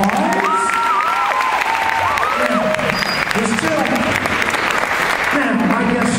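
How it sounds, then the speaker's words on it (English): Audience applause at an after-prom hypnotism show: a steady, sustained wash of clapping filling the room, with cheering and voices calling out over it throughout. "So ladies and gentlemen, a nice round of applause."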